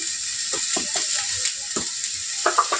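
Onions and tomato sizzle in a frying pan with salt and Kashmiri chili powder for bread upma. The sizzling is steady and is broken by scattered scraping stir strokes, with no talking.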